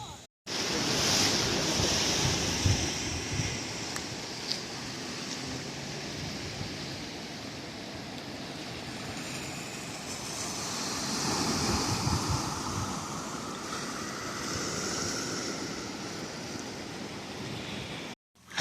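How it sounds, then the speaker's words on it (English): Ocean waves and surf along the Maine coast near Bar Harbor, a steady broadband wash with slow swells that rises again midway, mixed with wind buffeting the microphone, continuous throughout with no voices. "Right by the ocean."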